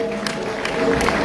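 A crowd at a weekend celebration party for an eighth and twenty-fifth anniversary cheers and applauds in a hall, a steady wash of claps and shouts that swells slightly toward the end.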